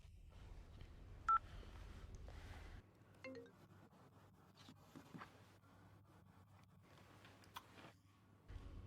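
A few short electronic beeps of phone keypad dialing, spaced irregularly over a low background hum, with faint handling clicks between them.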